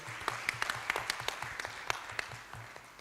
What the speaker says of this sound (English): we give him a hand clap of appreciation